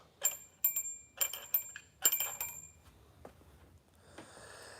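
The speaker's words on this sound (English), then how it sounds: "Bell works." The bell on a large handmade toy truck with a Frisco-type badge dings in a quick series of bright, sharp strikes, several in a row, then fades to quiet.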